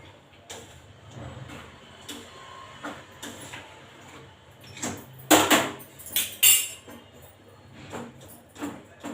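A spoon scrapes and clinks against a pan while tomato curry is stirred, with scattered soft knocks and two sharper, brighter clatters near the end.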